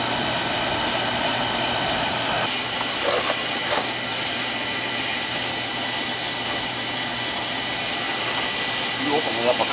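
An oil-fired boiler burner runs with a steady, loud hissing roar that holds constant the whole time, broken only by a few faint clicks and knocks.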